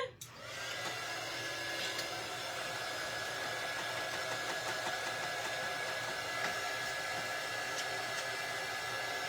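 A hair dryer runs steadily and loudly for the whole stretch, blowing over freshly painted craft pieces, with a constant whine and airy rush and no talking.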